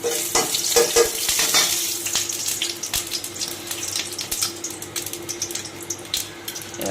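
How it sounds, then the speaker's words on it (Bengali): Nigella seeds frying in a little oil in a nonstick pan give a steady, close hiss and crackle, with faint scraping stirs and no voices. "ননস্টিক কড়াই একটা বসিয়ে দিলাম, তার মধ্যে একটু হালকা তেল দিলাম, একটু কালো জিরে দিলাম"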